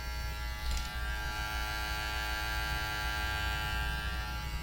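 A cheap Temu electric shaver running on its first gear gives a steady, close electric buzz with a faint hum beneath, broken by a brief rattle near the start.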